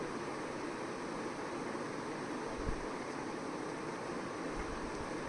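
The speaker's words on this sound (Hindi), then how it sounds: "फ़ैन ऑन है, इरिटेटिंग लग तो रहा होगा आपको" Steady broadband whoosh of an electric fan running indoors at night, continuous and even throughout with no voices.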